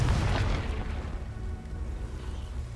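A Confringo blasting spell in Hogwarts Legacy goes off as one deep, loud boom at the start that fades into a rumbling, crackling tail, heard alone without talk.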